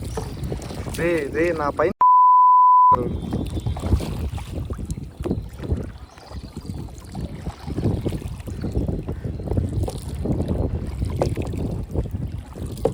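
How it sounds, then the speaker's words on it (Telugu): Kayaking on open water in a strong breeze, with steady wind buffeting the microphone and low, rumbling water and paddle noise throughout, while a person talks over it. "గైస్ కయాకింగ్ చేస్తున్నాం."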